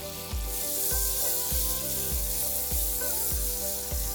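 Garlic and ginger paste sautéed with whole spices in hot oil, a constant loud sizzle broken by a regular beat of spatula taps against the pan, close and without talk.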